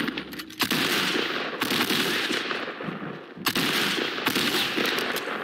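Rapid bursts of automatic gunfire from a video game, loud and continuous with brief pauses between volleys, and no talking.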